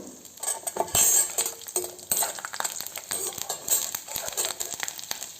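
Cloves and fennel frying in a pan for broken wheat pulav, an uneven run of spoon scrapes and metallic clinks over a light sizzle, close and busy with no voice.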